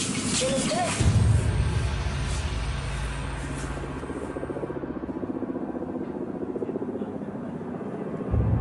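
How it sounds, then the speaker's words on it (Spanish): Military helicopters patrolling over the Colombian jungle, a low throbbing rotor chop that fills the scene steadily, with the pulsing beat easing slightly toward the end. "Lo que parecía un helicóptero se ha convertido en toda una patrulla"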